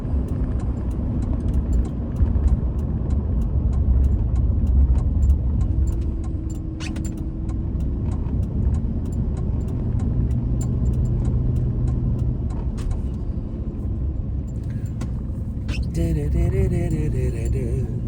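An old truck engine runs steadily nearby with an uneven, sputtering rumble, as if its carburetor needs rebuilding, continuing with little change throughout.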